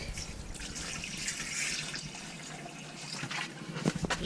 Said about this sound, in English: pour it down each sink